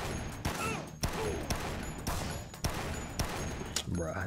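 Automatic gunfire rings out in the zombie video game Dead Rising, rapid bursts of shots cracking every half second or so, loud and close, with game effects in between.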